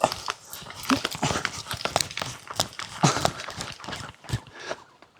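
A dog runs up outdoor steps on a hike beside a walker, with quick panting and scrabbling footfalls mixed with crinkling and rustling, close and busy throughout.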